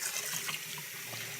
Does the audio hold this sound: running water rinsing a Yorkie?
yes